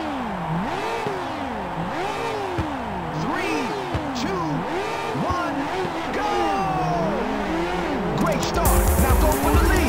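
Race cars in Ridge Racer on PSP rev and whine together at the start of a race at Lakeside Parkway, with loud, rising and falling engine tones and a burst of noise near the end.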